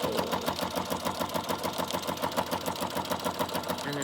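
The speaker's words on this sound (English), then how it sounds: "you want to stitch in the fold right there" A sewing machine stitches down the fold of a junk journal, starting with a back stitch, its needle running in a steady, fast mechanical rhythm at close range with no talking.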